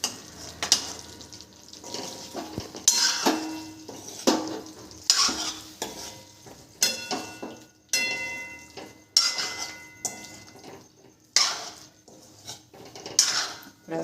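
Potatoes being stirred in a pan, a spoon repeatedly scraping and clinking against the metal in an uneven rhythm, with light sizzling beneath and brief pauses between strokes.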